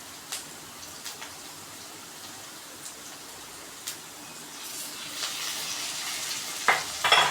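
Ginger garlic paste sautéing in a hot pan for chana butter masala gives a steady close sizzle with scattered stirring clicks, growing louder and more crackly toward the end.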